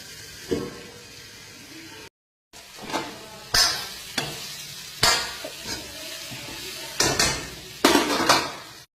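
Bitter gourd (karela) cooks in a pan on a low flame under a soft background sizzle, with repeated metal scrapes and clanks from stirring in separate bursts and one short gap of silence.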